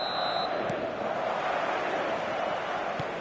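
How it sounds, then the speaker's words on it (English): A broad, steady roar from a large stadium crowd in a football video game on a match night, sustained and even throughout, with a couple of faint clicks. "And the matchday noise at this place is truly special."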